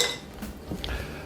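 A couple of ice cubes dropped into a glass for a bourbon cocktail: a few light, bright clinks and taps in quick succession, close and fairly soft, over a quiet background.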